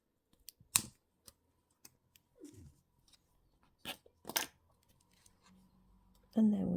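A few sharp snips of cutters through thin jewellery wire while making a chain link bracelet, with scattered small clicks and handling noises close by, ending in a short burst of louder sound.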